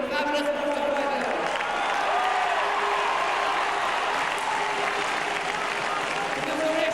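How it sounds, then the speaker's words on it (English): A large stadium crowd applauds both hurling teams after the 2002 Munster final between Waterford and Tipperary, a continuous distant roar of clapping and cheering with a voice over it. "may I first ask you to give a tremendous round of applause to both teams"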